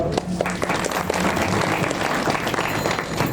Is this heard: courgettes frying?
no